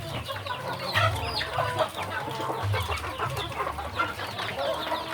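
Kampung chickens on a poultry farm raised for meat, clucking continuously in a busy, dense chorus of overlapping calls close by, with no talking.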